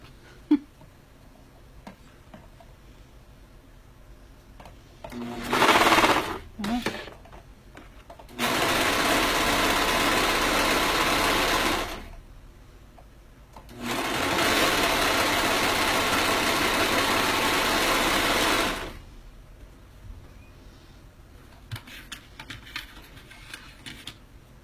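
A serger sewing machine runs in two long steady bursts of several seconds each, preceded by a few short stuttering starts, with quiet handling noises between and after the runs.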